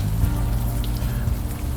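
Steady rain falls in the game Unavowed, a dense, even hiss of drops with a low rumbling bed, continuous and close throughout without any voices.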